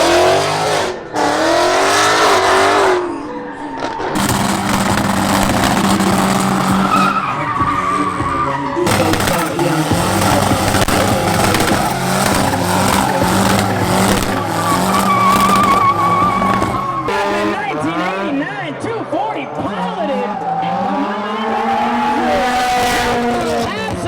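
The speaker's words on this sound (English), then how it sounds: "We're gonna go watch some cool cars drift." Cars drifting at a burnout box during a 2-step competition, engines roaring and revving with sustained tire squeal and skidding, loud and close throughout, with some crowd voices mixed in.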